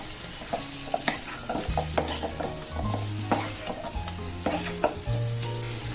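Chicken wings in a hot pan being stirred with a spice mix of cumin powder, garam masala and pepper, with a steady sizzle under repeated scraping and clinking of a utensil against the pan.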